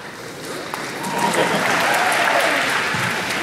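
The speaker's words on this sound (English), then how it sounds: "a medium-sized round of applause there." An audience claps, starting lightly and swelling into a steady, moderate round of applause that holds to the end.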